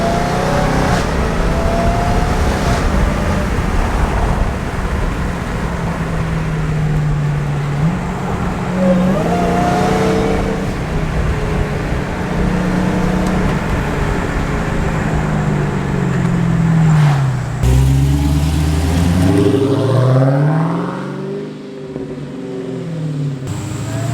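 A car fitted with a cold air intake revs hard and loud, its engine note climbing and falling in repeated sweeps, nearby and continuous, with no talking.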